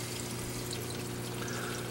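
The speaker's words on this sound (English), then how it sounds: "The one on the left is the secondary drain, probably draining at the very most, maybe 20, maybe 50 gallons per hour" Water drains through the secondary drain of a BeanAnimal aquarium overflow, a continuous soft pouring and trickling wash over a low steady hum, unbroken throughout.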